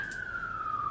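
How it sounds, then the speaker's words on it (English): Emergency vehicle siren on a New York City street, a steady descending wail heard from outside a window, continuous and moderately loud for the whole second. "Sorry, excuse the sirens."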